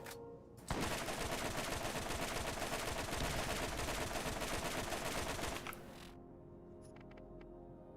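Rapid, sustained automatic gunfire from a high-fire-rate gun with a 104-round magazine in the video game Borderlands, a dense unbroken burst of about five seconds, loud and close, before it cuts off into quieter game ambience.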